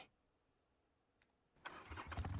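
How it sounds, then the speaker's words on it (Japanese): A cabriolet car engine in a video game starts up after near silence, a sharp crank followed by a rising rumble as it pulls away, growing louder toward the end. "I heard the sound of the cabriolet pulling out in tandem"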